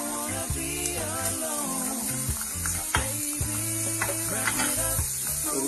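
Onion and bacon frying together in a pan, giving a steady close sizzle broken by repeated clinks and scrapes of stirring, with a clatter of utensils all the way through and no talking.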